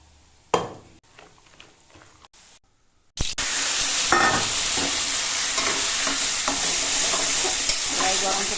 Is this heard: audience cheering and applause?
no